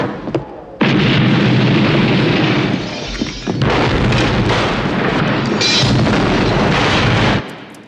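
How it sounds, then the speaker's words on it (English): Thunderous, sustained explosions from the 1982 film The Thing, starting with a sharp blast and rolling on as loud, continuous booms and rumbling with a brief dip midway, then cutting off abruptly near the end. "These explosions are absolutely dynamite."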